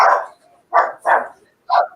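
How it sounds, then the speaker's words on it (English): A dog barks four times at a distance, loud sharp yelps in an uneven rhythm with short silent gaps between them, heard outdoors where a bear is climbing under a truck. "Oh, it's a dog over there."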